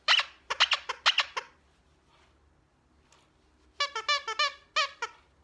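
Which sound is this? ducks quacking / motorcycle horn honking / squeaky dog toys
squeaky dog toys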